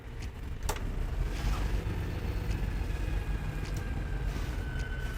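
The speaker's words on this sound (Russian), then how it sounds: "Пуск двигателя." A diesel city bus in Yakutian winter frost runs with a steady, close, low engine rumble, broken by an occasional click or knock. No distinct start-up is audible.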